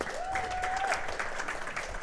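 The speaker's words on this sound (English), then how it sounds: "can we please give a round of applause to the ASC Player of the Week on offense" A football luncheon crowd applauds the ASC offensive Player of the Week from Southwestern, a steady wash of clapping that holds for two seconds, with a thin whistle-like tone rising and holding briefly near the start.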